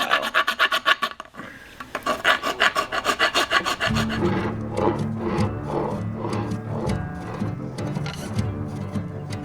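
Deer antler being shaped with a multi-file, a steady rasping scrape repeating in quick strokes, first alone and then continuing under a low droning hum in the background.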